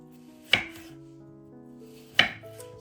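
A knife cuts young potatoes into wedges on a board, two sharp chopping knocks about a second and a half apart, close and clear with faint kitchen background music between.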